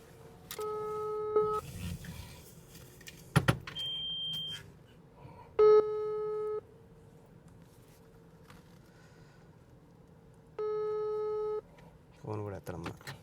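A telephone call goes unanswered, steady ringback tones repeating with long gaps between them, and a voice breaks in briefly with other faint background sounds.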